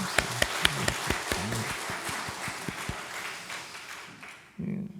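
Congregation clapping in a Korean Sunday morning church service, a rhythmic sequence of sharp, evenly spaced claps amid a broader ripple of applause, ending abruptly before a voice resumes.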